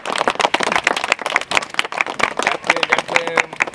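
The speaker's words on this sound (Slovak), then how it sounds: "Poprosím potlesk." An audience applauds at a school event welcoming a mayor, a dense, loud patter of many hands clapping continuously throughout.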